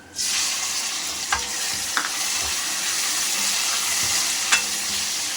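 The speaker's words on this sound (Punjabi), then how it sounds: "ਆ ਸਾਡੇ ਪਿਆਜ਼ ਹੁਣ ਭੁੱਜ ਗਏ ਨੇ ਲਾਲ ਹੋ ਗਏ ਨੇ ਹੁਣ ਅਸੀਂ ਟਮਾਟਰ ਪਾਵਾਂਗੇ" Chopped tomatoes frying with browned onions in a pot: a steady, close hiss of sizzling throughout, with a few scraping clinks of a spoon stirring at intervals, no voices.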